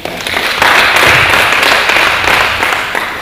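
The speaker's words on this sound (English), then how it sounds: "I think he deserves a round of applause." A conference hall audience breaks into sustained applause, a dense, loud wash of clapping that holds steady for several seconds and fades slightly at the end, with no talking over it.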